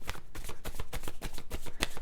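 Tarot cards are shuffled close up in a quick, even run of crisp riffling flicks with no talk over them.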